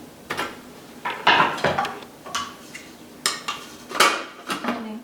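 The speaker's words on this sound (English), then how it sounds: "I'm going to go ahead and put my onions inside the Thermomix" Halved onion pieces dropped into the stainless steel bowl of a Thermomix TM6, giving a run of sharp, close clattering knocks and taps at irregular intervals, with no talking.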